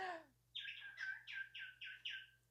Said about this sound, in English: clearly also have a bird next to the camera